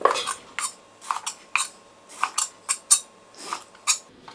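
Crisp knife chops through enoki mushrooms against a cutting board, cutting them into 1-2 cm pieces, about a dozen quick strokes in an uneven rhythm, close and clear with no talking.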